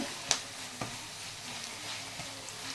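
Soft, steady sizzling of curry leaves frying in a pan, with a few sharp pops and crackles breaking through the quiet hiss.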